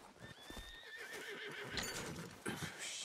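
A horse in the video game Red Dead Redemption II whinnies, with hooves clopping around the call and a second burst of movement near the end.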